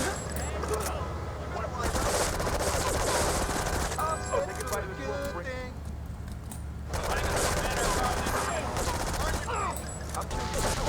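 Rapid bursts of gunfire in Grand Theft Auto III crackle almost nonstop over dense game sounds during a Rampage mission, with a voice talking throughout.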